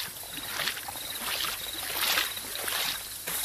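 Water in the Minecraft video game, a steady flowing and trickling wash with faint bubbling that continues throughout at moderate level, with no talking.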